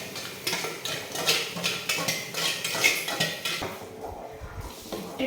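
Gram flour batter being stirred in a pot for coffee Mysore pak, a spoon scraping and clinking against the metal in a steady rhythm of close, repeated strokes, with a softer stretch near the end.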